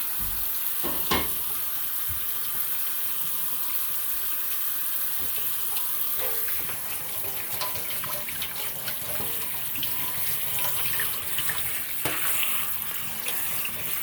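Tap water runs steadily into a pot in a home kitchen during lasagna preparation, a continuous close splashing hiss with brief clinks, with no voices.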